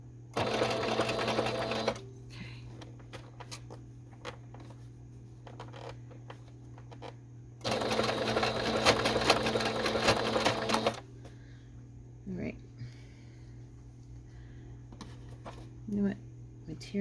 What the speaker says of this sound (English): I'm going to backstitch just a minute here, just a tiny bit.